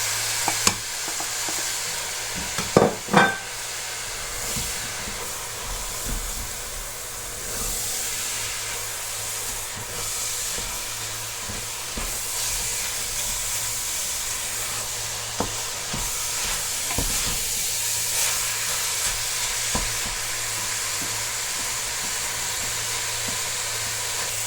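Ground meat with salt and spices simmering in a pan gives a steady soft sizzle and hiss, with a few clinks of stirring near the start.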